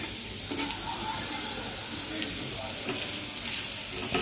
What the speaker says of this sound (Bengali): হালকা করে ঘিয়ের মধ্যেই ভেজে নেব।